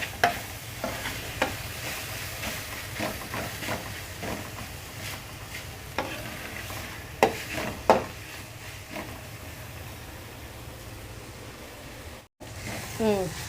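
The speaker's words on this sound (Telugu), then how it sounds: "అల్లం పేస్ట్ బాగా పచ్చివాసన పోయేంత వరకు వేయించాము." Ginger paste and tomato fry in oil with a steady sizzle while a spoon scrapes and stirs the pan at intervals, close up. A person talks over the cooking.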